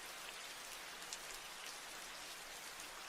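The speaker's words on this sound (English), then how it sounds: "Is that better for the rain volume?" A steady rain sound effect runs on a livestream as an even, constant hiss of falling drops, faint in level and unbroken, with no talking over it.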